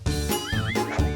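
A cartoon doctor bear imitates a donkey, a loud voiced bray rising and falling in a wavering, braying rhythm close up, with no other talk.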